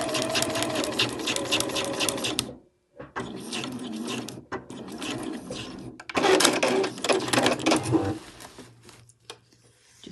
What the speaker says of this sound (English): I'm just sewing a diagonal line there